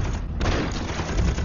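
Gunfire crackles through a battle scene in a 3D Chinese animated film, a loud, dense burst of overlapping shots with a booming low end, continuous for about a second and a half.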